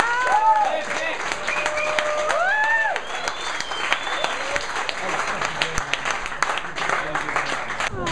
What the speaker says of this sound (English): Everybody please give Patrick Harvey a big round of applause!